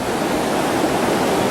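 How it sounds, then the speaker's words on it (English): River rapids rush continuously, a dense, broadband roar of churning whitewater heard close and steady with no breaks. "This is the rapids."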